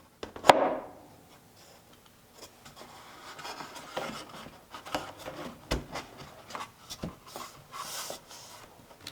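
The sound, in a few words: sanding a wooden 2x4 garden bench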